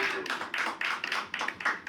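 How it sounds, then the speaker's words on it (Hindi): An audience at a televised arts competition claps in several short, rhythmic bursts, the taps close and fairly loud, with little else heard around them. "एक बार जोरदार तालियां इसके लिए।"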